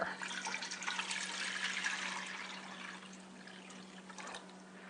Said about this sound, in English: I'm going to fill it about 3/4 of the way full with water